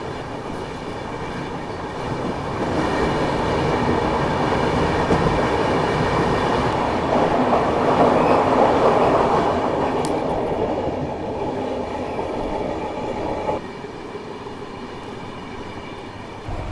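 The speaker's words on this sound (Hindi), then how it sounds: "हमारी ट्रेन तो उसको स्किप कर दी है हाई स्पीड में" Ahmedabad-Gorakhpur Express passenger train running at high speed, a loud, steady broadband rumble and rattle of the carriages on the rails that swells in the middle and continues without any talk.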